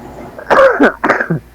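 Two harsh, rough coughs close to the microphone in quick succession, loud and throaty, with a faint hum of background noise.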